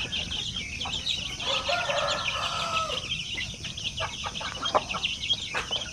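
Basilan and Shamo Aseel chicks chirp and peep in a steady, busy chorus, with clucks and cheeping calls from nearby chickens mixed into the continuous farmyard din.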